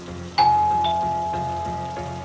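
A two-tone ding-dong doorbell chime rings out clearly, repeated, heard through a phone speaker as part of a TikTok clip, with a steady low rain-like hiss underneath.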